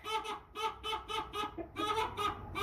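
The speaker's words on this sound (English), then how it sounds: "there's a reason I filled my barn up with all of these basic white chickens" American Bresse chickens cluck steadily in a barn, a close rhythmic series of short repeated clucks from a flock with a brief pause midway, no talk.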